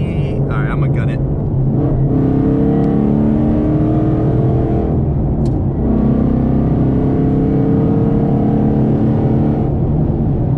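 A sports car engine rumbles and revs up hard, climbing in pitch as it accelerates, heard from inside the vehicle with some talk over it.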